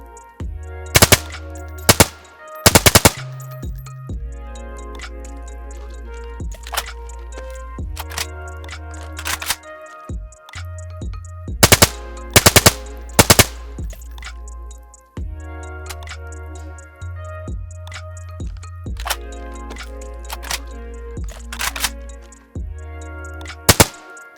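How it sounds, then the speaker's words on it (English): A suppressed rifle in DayZ fires subsonic armor-piercing rounds in sharp muffled cracks, interspersed with repeated mechanical clacks and clicks of reloading and bolt handling, close and loud, spread across the whole stretch. "Let's take a look at the firing and reload animations."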